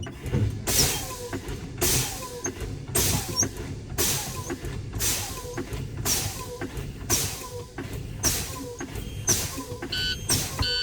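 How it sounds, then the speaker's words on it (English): A truck's air brakes are fanned in the cab to bleed system pressure down. Sharp bursts of hissing air repeat roughly once a second in a steady rhythm over a low cab rumble, with no talking. "I'm going to fan these brakes, bleed that system down between 60 and 90 PSI."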